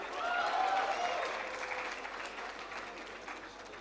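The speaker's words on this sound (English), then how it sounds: "Mayank, Mehta Manthan, Dang Mishti, Yatin, keep cheering." An audience claps steadily at a university MBA convocation ceremony in Mumbai, the applause loudest at the start and tapering slightly while continuing throughout, with a few faint cheers and no clear speech.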